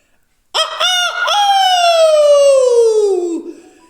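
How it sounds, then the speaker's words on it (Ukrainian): A rooster crows once, loud and close, a long drawn-out call that slides downward in pitch before trailing off. "чує, півня голосок пісеньку співає"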